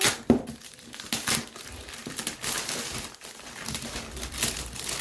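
Wrapping paper is torn and crinkled off a Christmas present in quick, uneven rips and rustles, close up and fairly loud, without speech.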